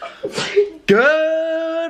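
A woman sneezes once, a sharp breathy burst followed by a brief voiced cry, with a short spoken word just before it.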